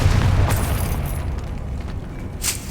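A Confringo spell blasts in Hogwarts Legacy, a loud, dense explosive boom with crackling debris that trails off, then a second burst near the end, with no talk.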